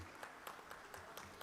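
Faint, distant audience applause at an organizational presentation event, a thin patter of scattered clapping heard at low level.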